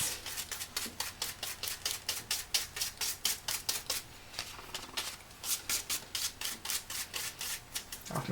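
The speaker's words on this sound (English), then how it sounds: "We're rubbing it in, and then I'm just going to use a brush to brush off the excess." Glitter being rubbed into a card by fingers and then brushed off, a quick rhythmic series of dry scratchy rubbing strokes, close and steady with a brief pause midway.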